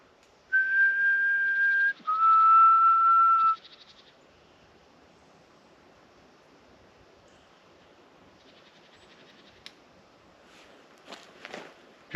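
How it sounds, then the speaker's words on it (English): Two clear, sustained whistled notes in the woods, the second slightly lower, followed by quiet with a few faint footsteps and clicks. "if you could Whistle. make a whistle noise, that'd be brilliant"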